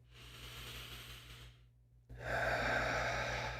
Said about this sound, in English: Just take a few breaths.